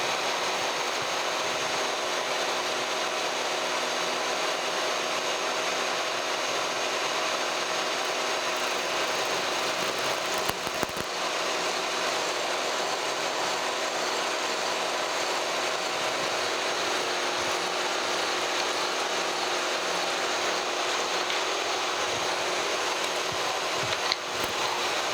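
A Kearney & Trecker milling machine cuts splines on a drive shaft, giving off a steady, continuous whirring grind throughout, with a couple of faint clicks along the way.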